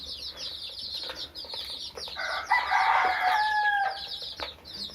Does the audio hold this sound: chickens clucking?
yes